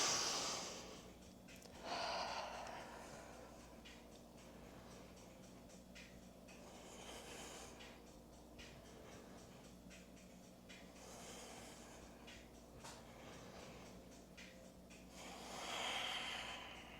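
A yoga instructor's slow, audible breathing during a backbend stretch in a handstand-prep session, long soft inhales and exhales rising and falling every few seconds, quiet and close.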